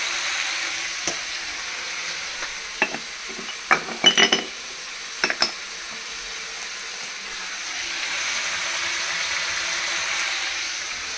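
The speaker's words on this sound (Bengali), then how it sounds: "এখানে দেখো আমি চিংড়ি মাছগুলো দিয়ে আবার ভেজে নিচ্ছি" Shrimp frying in a pan give off a steady, close sizzle throughout, with scattered clinks and scrapes of a utensil stirring against the pan in the middle.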